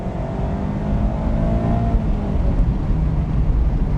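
A Mazda MX-5 Miata's 2-liter naturally aspirated engine revs steadily, a loud, continuous drone that climbs gradually in pitch over a few seconds with no talking.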